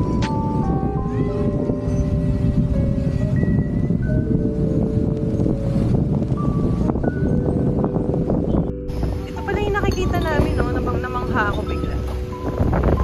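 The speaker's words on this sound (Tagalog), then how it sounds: "It's windy, it's sunny." Wind buffets the microphone with a steady, rough rumble on a sunny day outdoors at Molo Plaza near Molo Church in Iloilo. People talk over it, and faint street sounds come through.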